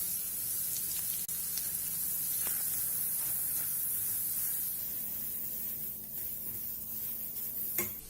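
Grated garlic and grated carrots sizzle in hot oil in a pan, making a steady, close hiss with a few faint clinks of a utensil.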